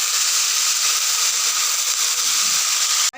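Mooli (radish) greens stir-fried in a pan give off a loud, steady hiss of sizzling that runs without a break and cuts off abruptly at the very end.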